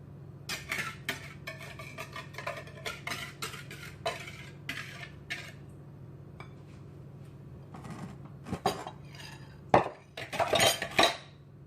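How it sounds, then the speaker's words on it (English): Chocolate muffin batter is mixed in a bowl, with wet ingredients stirred into dry: a spoon clinks and scrapes against the bowl in irregular bursts, close and moderately loud, with quieter pauses between strokes and no talking. "Now I'm gonna add the wet ingredients to the dry ingredients and mix it."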